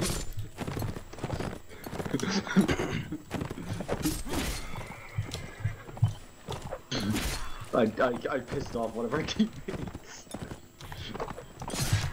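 A video game horse clip-clops and whinnies over the top of players who talk and laugh throughout, with hoofbeats coming in irregular bursts.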